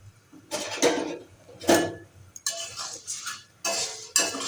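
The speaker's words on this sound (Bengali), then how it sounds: "কড়াইটা একদম গরম হয়ে গিয়েছে। এবার আমি এই চিড়েগুলো এর মধ্যে ঢেলে দিলাম।" Flattened rice (chira) is poured into a hot, dry wok and stirred, giving bursts of rustling, scraping and clinking of utensil against metal in several separate clusters, close and moderately loud.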